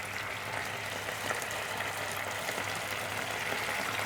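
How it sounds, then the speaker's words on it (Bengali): Fish fries in hot oil for sweet and sour fish, a steady dense sizzle and crackle that holds evenly throughout with no voices. "আমরা এবার মাছটা দিয়ে দিচ্ছি"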